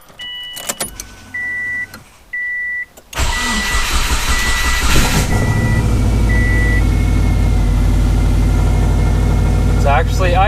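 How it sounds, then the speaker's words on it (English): A Subaru's warning chimes beep repeatedly, then the engine, fitted with upgraded fuel injectors, cranks and catches, settling into a steady, loud idle that continues to the end. "It's actually idling."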